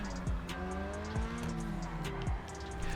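Grotti Furia supercar in GTA Online braking hard after speeding, with engine drone dropping in pitch and brief tyre squeal and skid, close and steady with no talk.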